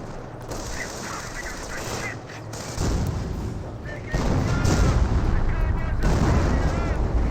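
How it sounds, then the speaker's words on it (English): Butterfly bombs in Company of Heroes burst in a dense, rumbling series of explosions and gunfire that grows louder partway through, while a commentator talks over the battle. "Ooh, got some butterfly bombs there."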